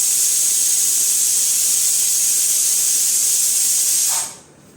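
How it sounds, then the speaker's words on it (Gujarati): Potatoes boil and steam on a gas stove, a loud, steady hiss of escaping steam that holds constant for several seconds and then drops away abruptly to a faint background. "ગેસ ઉપર આપણા બટેકા પણ બફાઈ રહ્યા"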